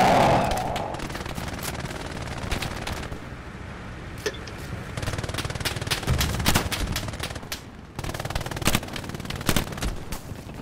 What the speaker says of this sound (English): Yeah, oh shit, machine gun out here.